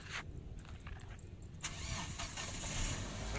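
A 2000 Hyundai Trajet engine cranks and catches, then settles into a smooth idle, heard close but fairly quiet with light background noise.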